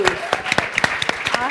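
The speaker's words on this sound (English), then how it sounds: "round of applause for all these wonderful ladies" Audience applause at a student advocacy event, sparse irregular claps rising and falling over about a second and a half, close and fairly thin, with some murmuring among the crowd.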